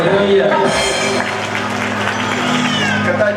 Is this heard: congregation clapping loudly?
yes